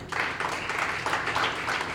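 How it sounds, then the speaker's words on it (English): A church congregation applauds their pastor, a dense, steady wash of hand clapping from a crowd filling the space at moderate loudness, with no gaps throughout. "If you are not clapping, you are suspect."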